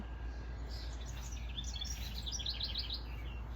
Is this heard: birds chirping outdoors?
yes